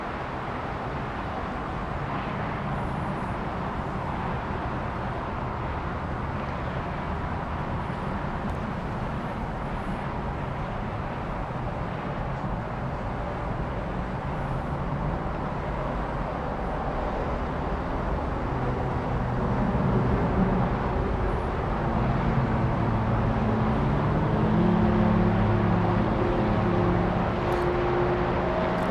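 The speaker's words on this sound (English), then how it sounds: "A lot of the noise you hear is from the highway just below us." Steady broadband roadway rumble from a highway just below a penthouse overlooking DFW Airport, continuous and fairly loud throughout, swelling slightly toward the end, with no voices.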